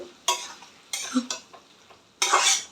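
Egg roll filling with green chili sauce and tomato sauce stirred in a pan, giving several short scraping, sizzling bursts separated by quiet pauses, fairly close.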